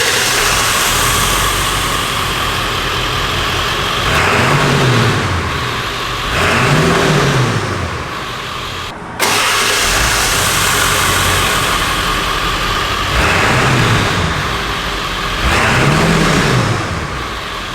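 Exhaust from a Power Stroke diesel truck, first stock and then with the muffler removed, idles loudly close by with a deep rumble and rises in two revs in each half.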